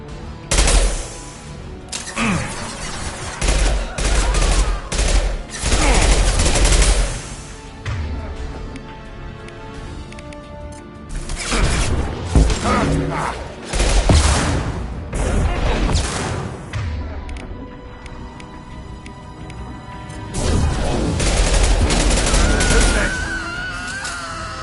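Heavy sci-fi gunfire from Mass Effect 2 combat comes in loud bursts of rapid shots and crashing impacts, separated by quieter stretches with faint background tones.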